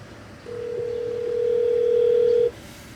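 A steady electronic phone dial tone through a Bluetooth receiver hums alone for about two seconds, clear and fairly loud over a faint background hiss, then cuts off abruptly.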